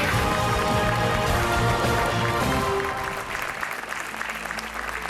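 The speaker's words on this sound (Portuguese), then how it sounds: "Um aplauso para a Anabela Almeida." Studio audience applause on a television game show, a loud dense burst of clapping with music beneath, thinning slightly toward the end.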